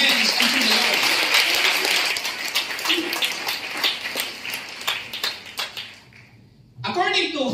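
A church congregation clapping hands during worship, dense at first, then thinning into scattered individual claps before fading, with a voice speaking briefly at the end.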